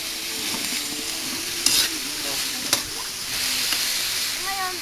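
Cooking liquid with a little water bubbles and sizzles in a pan, a steady soft hiss with occasional louder pops and stirring clinks, fairly close with faint voices in the background.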